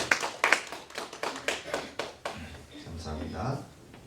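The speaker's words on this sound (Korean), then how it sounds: "우리 축복의 박수 하시겠습니다" A church congregation gives a round of blessing applause after a prayer, heard as a few distinct, rhythmic claps near the start that give way to lighter clapping and murmuring voices.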